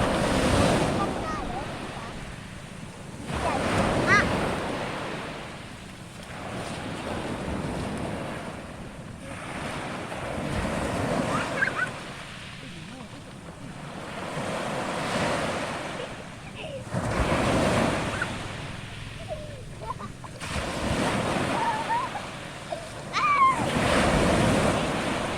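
Rough sea waves roll onto a beach in repeated surges every few seconds, each building to a broad crashing wash and then receding, with heavy wind buffeting the microphone and faint voices now and then.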